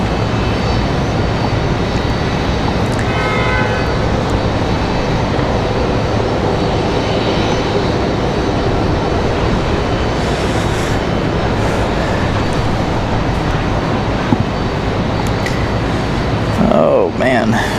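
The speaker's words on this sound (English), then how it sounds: "The American 777 getting ready for pushback here" American Airlines Boeing 777 readying for pushback at Raleigh Durham airport, heading for London: a constant loud engine and ground-equipment roar with a faint rising whine, and a person talking over it.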